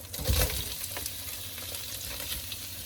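Onion and garlic hit hot oil for a noodle stir fry, a loud burst of sizzling at first that settles into a steady crackling fry with occasional spoon scrapes, close and without talk.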